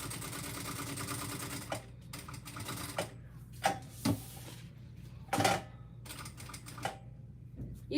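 Sewing machine stitching around a marked box on bag fabric, in short bursts of fast mechanical whirring separated by brief pauses and clicks, close and fairly quiet.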